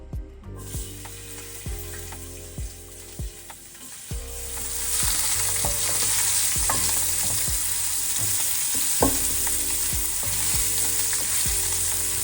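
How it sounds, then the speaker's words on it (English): Red onion hits hot canola oil in a pan, the crackle swelling into a loud, continuous sizzle up close, while a melodic backing track plays throughout. "Now that this is heated up, I'll add some of the red onion, the onion."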